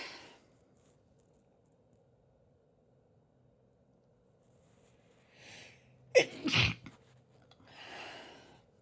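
A woman sneezes during a sneezing fit: quiet breaths give way to one sharp, loud, close sneeze burst with a short follow-up, then heavy breathing.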